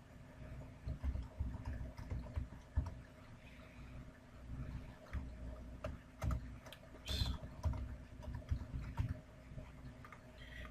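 Keystrokes on a computer keyboard while entering a message subject in a Joomla 1.5 web admin panel, steady close clicking in irregular bursts with no talk.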